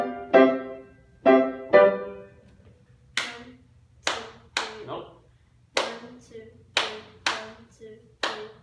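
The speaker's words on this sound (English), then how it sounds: "Clap it. Go." Three sustained piano notes lead into hand claps, about eight or nine crisp, close claps in a steady triple-time rhythm, played alone without speech.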